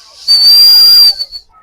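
A whistle built into a pencil, sold at a stationery shop, is blown once: a single loud, steady shrill tone held for nearly a second, then cut off, followed by faint background noise.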